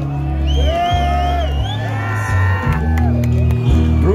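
A large festival metal-concert crowd at Brutal Assault screams and cheers, loud and sustained, with shouts and whoops rising throughout and a voice over the PA.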